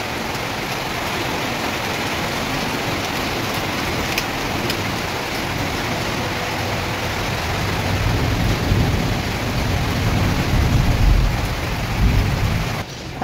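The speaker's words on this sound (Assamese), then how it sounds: "এই বৰষুণখিনি দিছে" Heavy monsoon rain pours down in a steady, dense hiss, with deep thunder rumbling underneath and swelling louder toward the end. No one speaks.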